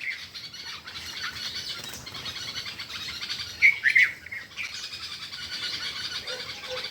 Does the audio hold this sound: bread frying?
no